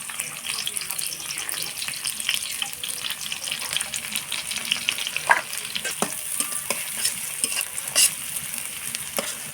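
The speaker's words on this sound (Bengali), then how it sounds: "আমি পেঁয়াজ দিয়ে দিলাম।" Onions hiss and crackle in hot oil for a large fish curry, a busy close sizzle broken by frequent scraping stirs and small pops.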